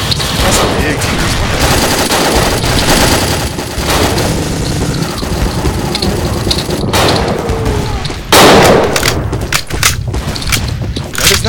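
Gunfire in the World War II dinosaur shooter Dino D-Day, with bursts of loud rapid shots and heavy booms layered over a dense battle din, and someone talking over the noise.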